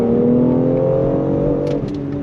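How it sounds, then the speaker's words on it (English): A BMW X3 M Competition SUV accelerates hard at full throttle, its engine holding a steady, loud rising drone from inside the cabin for about two seconds. "give it a little bit of the beans and see what she's got. Full throttle."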